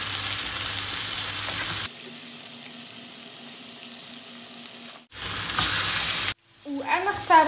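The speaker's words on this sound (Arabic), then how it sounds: "كنجهد ليها البوطا ونخليها تتحمر خاطرة، ونزيد ليها طريف ديال الزبدة" Beef steak browning in a pan with butter, a steady broadband sizzle with quieter stretches and short cuts, ending with a few faint higher clinks or squeaks.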